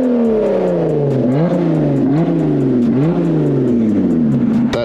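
A car engine revs hard as the accelerator is floored, pitch climbing and dropping in repeated surges, loud and close, with no talking.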